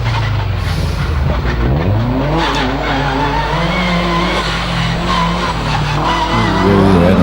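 A Subaru WRX tears up a hillclimb course, its engine revving hard and rising in pitch as tyres squeal and skid through the corners, loud and close with no talk over it.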